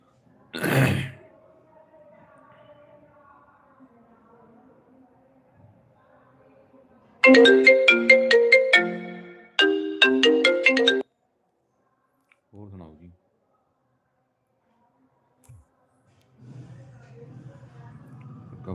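Phone ringtone rings in two loud melodic bursts in a quiet room, with brief speech sounds and small noises around it.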